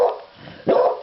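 A dog barks indoors, with one sharp bark at the start and a second louder bark after a short pause, close to the microphone and with no talking.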